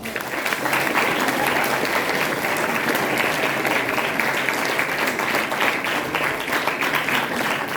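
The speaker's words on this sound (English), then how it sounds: "Let's all give them a warm round of applause." A theater audience at a 2024 play competition claps in a warm, sustained round of applause for the judges, dense and loud from start to finish, with no voices over it.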